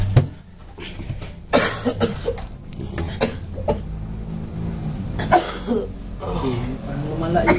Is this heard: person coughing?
yes